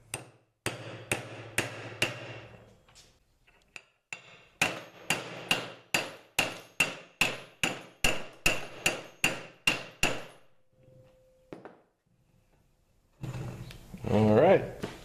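A socket is hammered against a bearing to seat it on an old mini bike, with about twenty sharp, evenly spaced metallic strikes close by, a few pauses, then brief talk at the end.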